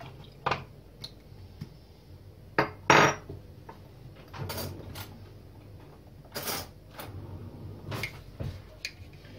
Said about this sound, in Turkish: Dört kaşık gelecek şekilde şeker katıyorum içine. Her bir bardağıma.